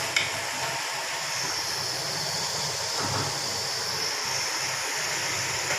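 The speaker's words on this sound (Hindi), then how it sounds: "पानी ऐड करना है अब हमने इसमें।" Water or stock pouring into a pot of Kabuli pulao on a stove turned to full heat, a steady rushing hiss that continues through the whole stretch without speech.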